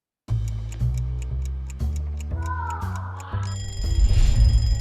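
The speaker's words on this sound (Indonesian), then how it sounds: "Setiap pagi mungkin kita bangun karena dengar suara alarm di HP kita." A phone alarm rings on its own, a repeating electronic melody of evenly spaced notes that grows louder and brighter toward the end.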